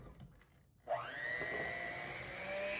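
Electric hand mixer switches on and whirs steadily through ginger molasses cookie dough, a loud continuous motor hum with a high whine, after a brief quiet start.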